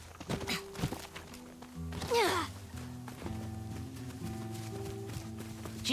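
Horses walk in the open-world game Ghost of Yotei, soft hoof clops and thuds mixed with sustained musical tones and swelling game ambience, with one louder whooshing sweep partway through.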